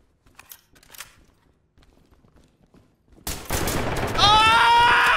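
Gunfire in the tactical shooter game Ready or Not: a few sparse clicks, then a sudden loud, sustained burst of shots that continues to the end with a ringing, tonal layer on top.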